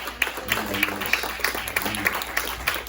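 A church congregation claps steadily in a moderately loud burst of applause, with individual claps audible throughout and voices faintly present underneath.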